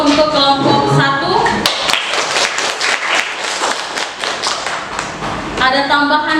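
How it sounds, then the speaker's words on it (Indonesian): A classroom audience applauds a student group, a burst of many hands clapping close and dense for several seconds, with speech at the start and end. "Beri aplaus dulu untuk kelompok 1."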